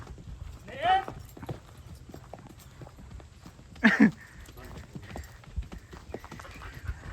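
A horse's hooves clip-clop at a steady walking pace on a farm with buffaloes nearby, with a short neigh partway through and voices talking in the background.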